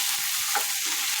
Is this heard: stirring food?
yes